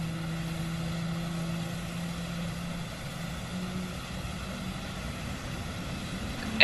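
Airliner jet engines running in the PMDG flight simulator game, a steady droning hum with a constant low tone that holds evenly throughout.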